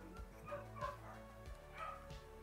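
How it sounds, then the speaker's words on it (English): Dog giving short yips and whimpering bow-wows, four soft broken bursts close by, faint and with no talk over them. "You hear our dog?"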